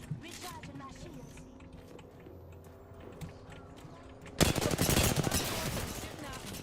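Gunfire in the video game Apex Legends during a competitive finals match: scattered distant shots at first, then a loud, dense burst of rapid automatic fire close by.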